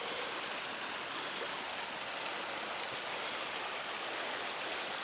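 A creek running below placer mine tailings, a steady broadband rush of flowing water that stays constant throughout with no talk.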